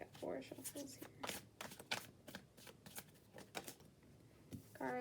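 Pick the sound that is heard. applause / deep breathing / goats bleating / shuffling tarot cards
shuffling tarot cards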